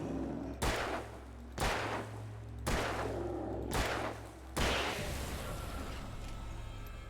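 Five loud, evenly spaced gunshots from a handgun in the horror video game Alan Wake, each a sharp crack roughly a second apart over a low steady drone, with a longer ringing tail after the last shot.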